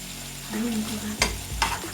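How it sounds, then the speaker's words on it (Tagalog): A spoon stirs tuna pasta sauce with chicken nuggets and pepper in a hot pan, giving a soft sizzle and two sharp scraping strokes close up. "Haluin ko natin."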